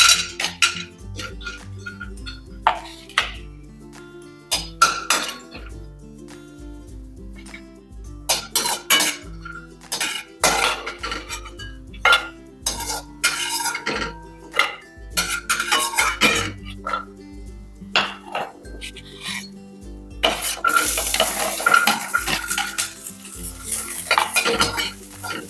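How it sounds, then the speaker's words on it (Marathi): Coconut roasting in a little oil in a hot pan while a spatula stirs it, giving repeated loud metallic scrapes and clinks against the pan in an uneven rhythm over a soft sizzle, close by and with no talk. "आता यामध्ये आपण थोडंसं तेल घालणार आहे आणि आधी आपण खोबरं भाजून घेऊ."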